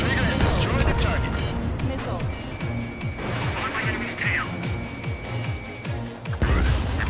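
Bombs bursting in the jet combat game Ace Combat 7 during a raid, a rolling series of booms and crashes layered with engine roar and radio chatter, loud and busy throughout.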